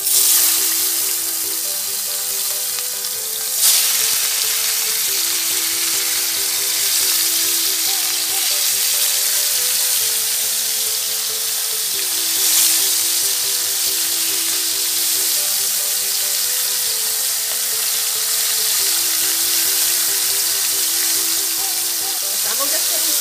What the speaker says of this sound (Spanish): Pasamos a freír el bistec que hemos sazonado.